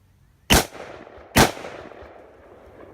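Two loud, close gunshots firing Dark Horse frangible ammunition outdoors, spaced under a second apart, each with a sharp crack and a trailing echo.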